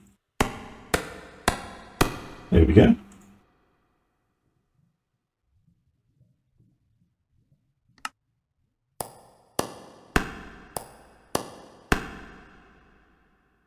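Sharp metallic hammer strikes from modded Minecraft (FTB) as metal plates are made, a quick burst of evenly spaced clanks, a pause of near silence, then another run of clanks, with a brief spoken phrase.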